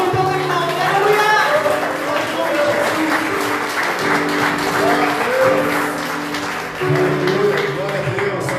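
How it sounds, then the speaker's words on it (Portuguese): A church congregation claps during a Sunday service while music with sustained organ or keyboard tones and singing plays loudly over the clapping, the applause forming a steady bed beneath the melody. "Então aplauda nesse momento, porque Ele merece o nome de Deus"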